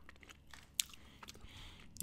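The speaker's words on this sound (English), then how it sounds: "Can taste the crunch from some of the vegetables in there." Someone chews StarKist tuna salad with onions, green peppers and pickles close to the mic, giving faint, soft mouth noises broken by a few brief, sharp crunches.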